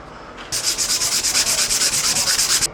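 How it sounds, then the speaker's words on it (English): Steady back-and-forth hand sanding of a plaster wall patch, a raspy scratching in quick even strokes, close by, starting after a brief quiet moment. "Next step is sanding."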